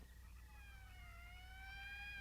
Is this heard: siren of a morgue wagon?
yes